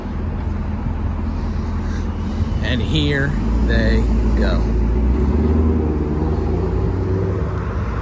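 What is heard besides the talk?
2024 Camaro ZL1 engine and exhaust accelerating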